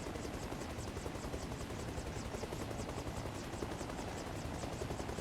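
A helicopter in a Bohemia Interactive game whirs with a steady rhythmic rotor chop and engine buzz, constant and fairly faint, as it slows down.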